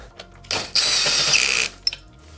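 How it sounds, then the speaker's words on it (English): An electric drill drives an Allen bolt, 3/16 size, into a Welax S9 Pro mesh office chair: a short whirring burst of about one second after a brief click, ending with a sharp mechanical snap. "not enough power in that manual Allen wrench, so I went ahead and electrified it"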